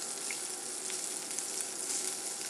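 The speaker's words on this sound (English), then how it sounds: "So we're letting these sizzle" Sliced peppers and eggs sizzle and fry steadily in a small pan, a continuous close-up crackle and hiss with occasional pops and no talking.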